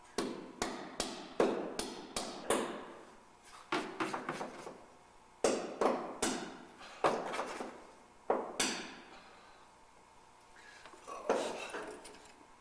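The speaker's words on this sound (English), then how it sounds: "after hammering this row of 90 nails" A hammer drives nails into a wooden aircraft wing in quick bursts of sharp knocks, several blows in each run, separated by brief pauses.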